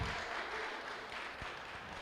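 A church congregation applauds with a dense, continuous wash of clapping during a worship service, steady and moderately loud throughout.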